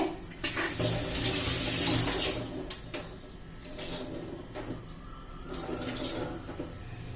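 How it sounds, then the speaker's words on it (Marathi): Water sloshing and splashing in a vessel as rice grains are swirled and rinsed by hand, close and steady with a few louder surges. "आता मी तांदूळ धुवून घेते"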